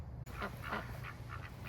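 Ducks in a backyard duck coop quack in a few short, moderately loud bursts over a steady low background hum, with no talking.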